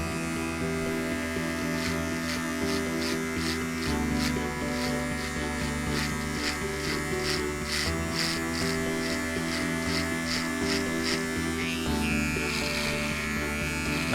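A close electric trimmer buzzes as it cuts through a beard, a steady loud hum that changes pitch slightly with each stroke, with no talking over it.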